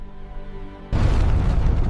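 A supernova explosion sound effect: a quiet tonal bed suddenly gives way to a loud, deep boom that rolls on as a sustained rumbling roar.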